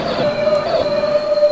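A Class 444 electric train pulls into Southampton Central station in Train Simulator 2019, with a steady loud rolling hum and a sustained high brake or wheel squeal throughout, with no voices.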